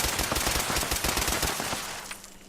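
An anti-armor explosive pipe rifle with a stinging magazine fires in a rapid, loud burst of closely spaced shots in a video game, the rattling volley running for about two seconds before cutting off into a brief fading tail.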